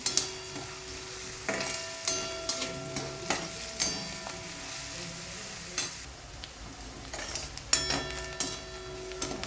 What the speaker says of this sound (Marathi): कांदा चांगला लाल गुलाबी रंगावर परतून घ्यायचा आहे